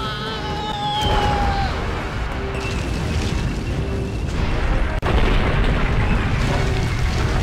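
Cannon fire from a giant bull tank in the video game Alundra 2, heard as heavy rumbling booms over a steady game soundscape, including a sharp blast near the end.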